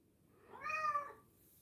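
A single drawn-out cat meow, fairly close and clear, rising and falling over about half a second against a quiet background.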